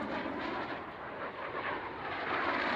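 Display jets closing head-on for an opposition pass at an airshow, a loud, continuous broadband jet roar that swells slightly toward the end.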